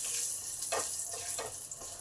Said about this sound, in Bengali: এই জিরেগুলোকে জাস্ট হাফ মিনিট ভেজে নেব।